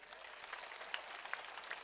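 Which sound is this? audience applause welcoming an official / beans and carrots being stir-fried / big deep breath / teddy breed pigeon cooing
audience applause welcoming an official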